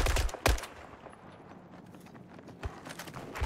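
Gunfire in a video game: a few sharp shots and short bursts, close and loud, spread across a few seconds with quieter clatter between them.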